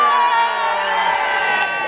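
A large crowd of young fans at an outdoor fan meetup lets out a sustained, loud collective shout and cheer, a dense wall of voices that holds steady for nearly two seconds.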